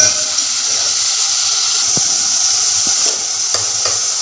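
Onions being sautéed and stirred in a pan for a village-style mutton curry make a loud, continuous hiss, with a few faint clicks from the spatula.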